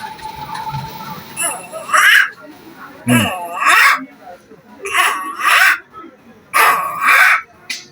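A person's voice imitates the call of a kura bird with four loud, hoarse, cawing calls in an even rhythm, each separated by a short pause and delivered close up.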